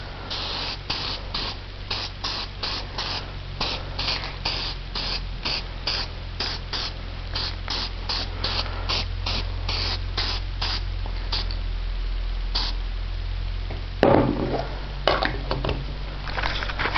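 Spray paint hisses from a can onto a homemade DIY grill in a quick series of short, evenly spaced bursts, followed by a few longer sprays and some faint clinks toward the end, with no talking.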